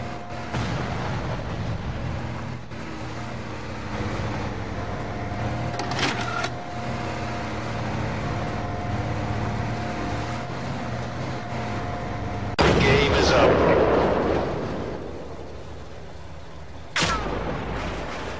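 Tank cannon fire from the modern tank combat game Metal Force, heard as a few loud booming blasts over continuous engine rumble and game noise, with one big burst near the end and a sharp final shot.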